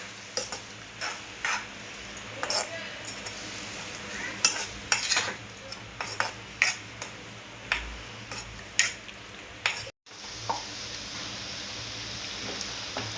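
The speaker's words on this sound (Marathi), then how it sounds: "अंडी मिश्रण आपण आता व्यवस्थित मिक्स करून घेऊया" Beaten eggs are whisked for egg bhurji, with a utensil clicking and scraping against a bowl in an irregular rhythm of sharp ticks over a soft, continuous mixing background, close and moderately loud.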